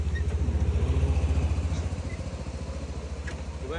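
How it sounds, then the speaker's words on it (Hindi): A Hero Honda motorcycle engine idles close by in Kashmir, a steady low thumping putter with quick regular pulses that holds loud and even, easing slightly in level partway through. "ये ज़बरदस्त बाइक है एनफील्ड से बेहतर बाइक है ये हीरो हीरो होंडा हमारे बचपन की सुपर बाइक थी"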